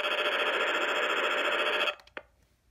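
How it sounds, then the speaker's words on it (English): Eton ZoneGuard Plus weather alert radio sounding its test siren, a steady high-pitched electronic tone held for about two seconds before it cuts off, followed by a couple of faint clicks, fairly quiet. "that's the siren for you right there"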